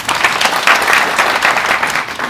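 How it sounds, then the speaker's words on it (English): An audience gives a short burst of dense, steady clapping to thank guests at a morning gathering, loud and continuous for about two seconds with no talk over it. "Can we clap for them?"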